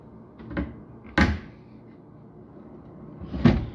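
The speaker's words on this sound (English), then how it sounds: "Sliding drawers in the lower cabinets." Sliding drawers in older lower kitchen cabinets open and shut in a vinyl-floored home, giving a soft rumble followed by two sharp, close knocks spaced a couple of seconds apart.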